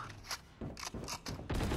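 Weapon reloading in Valorant, a short sequence of mechanical clicks and metallic clacks in quick bursts, fairly close, with a louder final snap and no talk over it.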